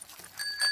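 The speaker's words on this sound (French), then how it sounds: "Et là ce sont les freins. Et ici la sonnette." A cartoon bicycle bell chimes briefly on a child's bicycle in Peppa Pig, two light rings heard close in a short burst, with no talk.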